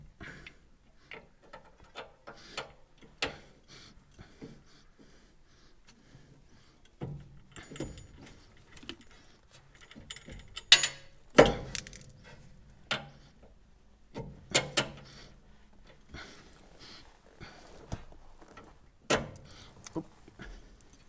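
Bolt and nut being fitted to a steering damper on a Land Rover Defender: quiet metallic clicks, taps and clinks arrive irregularly at close range, with a few sharper knocks of metal on metal and no talking.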